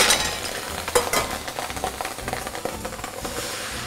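White wine splashed into a very hot pot of mussels, a loud steady sizzle with crackling bursts and some stirring clatter of shells, close and continuous without talk.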